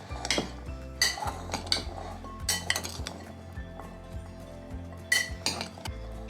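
A spoon stirs chickpeas and spices in a dish, producing repeated metallic clinks and scrapes against the bowl at an irregular rhythm, close and moderately loud, with no talking.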